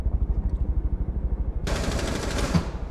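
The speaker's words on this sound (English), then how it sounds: "Who are you shooting at?" Rapid automatic gunfire in Rainbow Six Siege bursts in partway through, loud and close, following a steady low rumble of game ambience.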